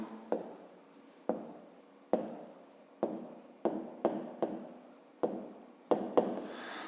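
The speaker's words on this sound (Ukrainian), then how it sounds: "пишемо те, що у нас є" Pen or pencil writing by hand while a fifth-grade math exercise is worked out, heard as close, rhythmic bursts of scratchy strokes, about nine short strokes each starting sharply and trailing off, with quiet gaps between.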